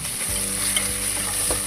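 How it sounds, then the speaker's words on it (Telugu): Ginger garlic paste fries in a pan with a steady, close sizzling hiss and light stirring scrapes throughout. "పచ్చి వాసన వేయ వరకు వేయించుకోవాలి"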